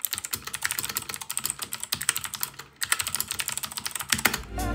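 Steady typing on a Royal Kludge RK84 mechanical keyboard, clicky key strikes in quick irregular bursts with short pauses, close and clear with no talking.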